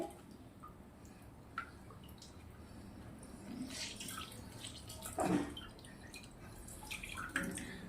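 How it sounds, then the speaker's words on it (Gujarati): Faint trickles and drips of water fall as blanched spinach, cooled in ice water, is squeezed out by hand in a kitchen, with quiet irregular splashes over a low background hiss. "તો પાલકને હવે આપણે આવી રીતે પાણીમાંથી દબાવી નિકાળ દેવાનો છે"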